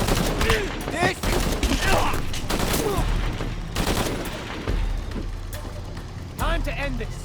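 Bursts of gunfire from Shadow of the Tomb Raider, loud close shots and volleys mixed with game effects, with a voice talking over parts of the action.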